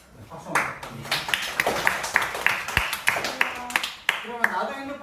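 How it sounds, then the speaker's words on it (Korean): Students applaud in a classroom during a class meeting about phone use at school. It is a lively round of clapping at close range, with claps rising and falling over several seconds while voices talk over it. "박수 한번 부탁드립니다"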